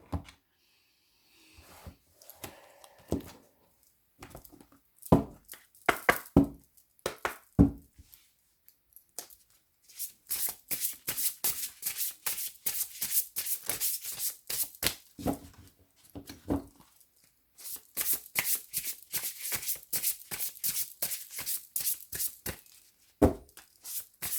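Lenormand and tarot cards are handled and shuffled close by. Scattered flicks and taps come first, then two long bursts of rapid, crisp riffling separated by a short pause.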